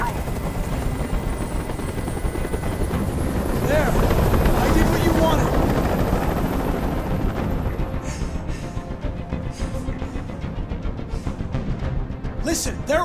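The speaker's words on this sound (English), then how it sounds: "I can't stand that noise anymore. Tell that helicopter to get out of here." Helicopter hovering in the video game Detroit: Become Human, a steady loud rotor thump and roar with wind-like rush filling the scene, while voices speak over it.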